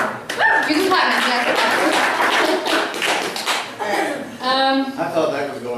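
An audience at a poetry reading night claps in a brisk burst, with talking and a bit of laughter mixed in near the microphone.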